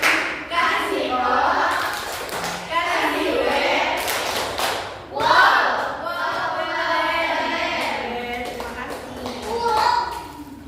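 In a third-grade classroom, children follow their teacher in a rhythmic clapping chant, bursts of hand claps alternating with loud group chanting and the teacher's voice leading.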